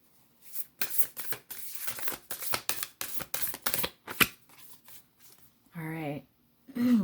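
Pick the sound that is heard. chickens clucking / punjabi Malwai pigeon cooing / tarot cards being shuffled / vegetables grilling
tarot cards being shuffled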